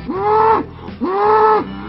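A herd of Texas Longhorn cattle on a ranch lowing, two long, loud moos in close succession, near and clear with no talk.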